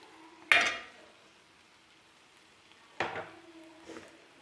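Spoon clanks against a pan while stirring paneer into a cashew paneer curry, two distinct metallic knocks a few seconds apart with faint scraping in between, close and otherwise quiet.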